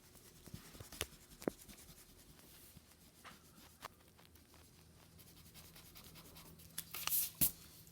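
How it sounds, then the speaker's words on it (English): An eraser rubbing hard across a charcoal drawing on paper, faint close scratchy strokes in irregular bursts with quiet gaps between them. "I'm going to erase pretty hard in that area"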